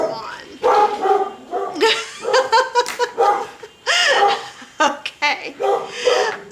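A pet dog barking and yipping repeatedly in short, loud bursts close by, set off after a car alarm, with a few whimpers between barks.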